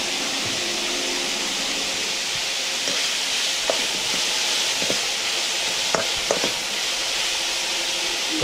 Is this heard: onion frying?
yes